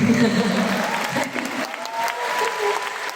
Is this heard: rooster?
no